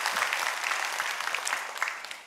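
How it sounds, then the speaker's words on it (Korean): Church congregation applauding together, a steady wash of clapping from many hands throughout, moderately loud and evenly sustained without talk. "박수 한번"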